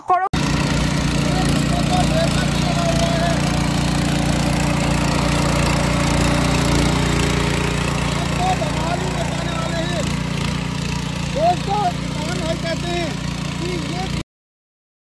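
A small combined rice mill machine on a mini power trailer runs with a loud, steady mechanical drone and rattle, with talk over it, before it cuts off into silence near the end.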